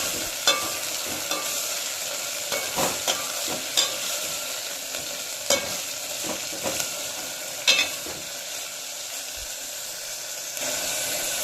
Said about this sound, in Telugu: ఇప్పుడు మనం క్లీన్ చేసి పెట్టుకున్న సోయా కూరని యాడ్ చేయాలి.